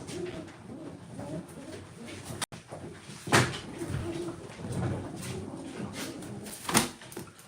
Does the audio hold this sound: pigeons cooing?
yes